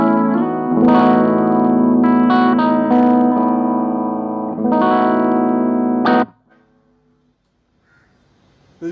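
Hamer Special electric guitar with P90 pickups, played clean on the bridge pickup through a Caliber 22 amp, strumming sustained chords in bursts with a brief pause, then ringing out and fading to near silence.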